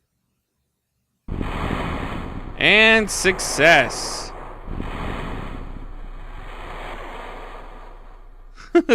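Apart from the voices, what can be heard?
capsule splashing down in water in Kerbal Space Program video game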